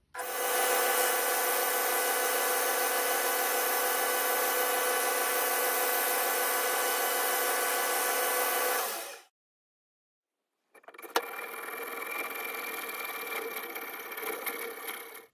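A lathe refacing a brass lighter part, stocked down to size for a bronze and brass fluid petrol lighter, runs with a steady, loud, high cutting whine. It stops for a moment, then the cut resumes, rougher and slightly quieter.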